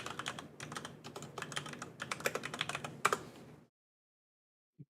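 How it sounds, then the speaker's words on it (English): Fast, continuous clacking of a mechanical computer keyboard being typed on, close and moderately loud, in bursts for about three and a half seconds before stopping abruptly into silence. "Whose fucking mechanical ass keyboard is that?"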